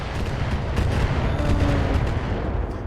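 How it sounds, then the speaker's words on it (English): A Gauss rifle fires in the BattleTech video game, a loud, deep, rumbling boom with a rolling crackle that swells and lingers for a couple of seconds amid battle noise, with no voices. "it misses with its Gauss rifle"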